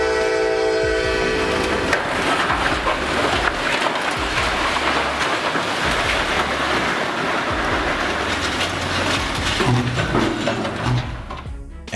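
A loud train horn blares at the start, then a heavy CSX freight train rumbles past a level crossing close by, a steady roar of wheels and cars continuing throughout.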